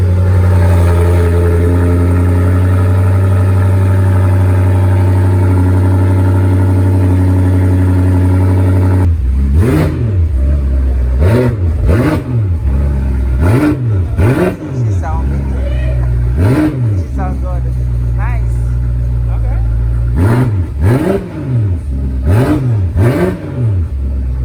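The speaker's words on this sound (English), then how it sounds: "stay tuned for the exhaust sound" A BMW X6M fitted with a cheap Alibaba aftermarket exhaust idles with a loud, deep drone, then is blipped repeatedly in a series of sharp revs that rise and fall, close up, with voices faintly under the engine.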